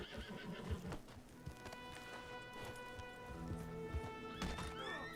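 A horse whinnies loudly near the end, with clip-clop hoofbeats and shuffling movement throughout at close range, alone without talk.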